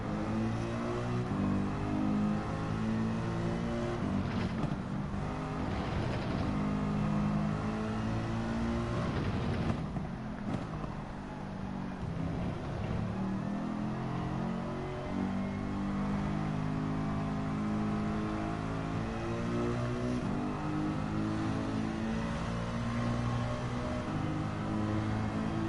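A race car engine in Gran Turismo 7 drones and revs steadily during an online manufacturers cup final, loud and continuous, with the pitch rising and falling through gear changes.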